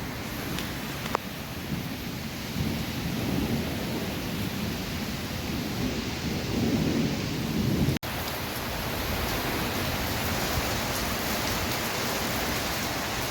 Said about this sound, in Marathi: सव्वा तीन वाजताच पाऊस चालू आहे